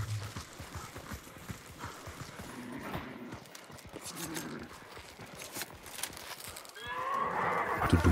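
Horse hooves clip-clop in the video game Hunt: Showdown, a series of soft, uneven hoof strikes at moderate distance, quiet and intermittent, with a brighter burst of game noise near the end.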